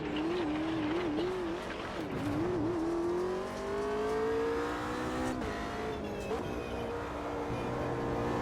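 Race car engine in a racing video game, a steady close drone whose pitch wavers and then climbs smoothly as the car accelerates, with brief dips where it lifts and downshifts for a corner.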